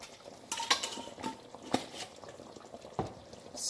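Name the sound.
stirring garam masala into butter chicken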